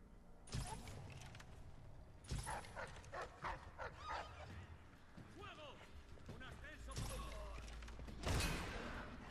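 Dogs in the video game Dishonored bark in sharp, repeated bursts with whimpers between them, with game sounds and someone talking throughout.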